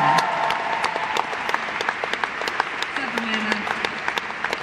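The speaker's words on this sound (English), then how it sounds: "Just give her a big round of applause." A concert audience at a show claps in a sustained round of applause, with sharp individual claps standing out over the dense clatter while a voice speaks over it.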